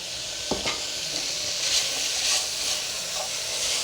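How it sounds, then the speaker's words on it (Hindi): A spoon stirs boiled black chana chaat to work in the spices, giving a steady close scraping and soft wet shuffling with a few sharper clinks, heard alone with no talking. "इस तरीके से हम इसको अच्छे तरीके से मसाले में मिक्स कर देंगे"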